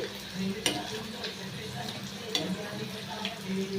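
Indian gooseberries for pickle are stirred in about a cup of hot oil, giving a steady low sizzle with soft scraping clinks of the spoon at intervals.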